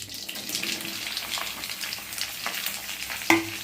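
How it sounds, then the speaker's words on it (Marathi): Large pieces of okra go into a hot pan, sizzling and frying in a continuous hiss, with scraping stir strokes and a sharp clink of utensil on pan near the end, close and without talk. "आता आपण ही भेंडी आहे ना याच्यात टाकून घेऊ"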